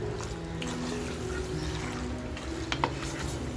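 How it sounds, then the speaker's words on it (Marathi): Rajasthani laal maas mutton stir-fried in a pan over full gas, giving a steady close sizzle and frying hiss with faint stirring clinks throughout, no voices. "अगदी 7 ते 8 मिनिटे आहे ना व्यवस्थित फुल गॅसवरती आपण परतत"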